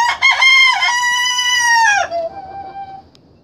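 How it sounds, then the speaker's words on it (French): Roosters at a poultry breeding yard crowing: one loud, close, drawn-out cock-a-doodle-doo with a few rising notes, tapering off into a fainter trailing call, no talking. "il y a les coqs qui n'arrêtent pas de chanter"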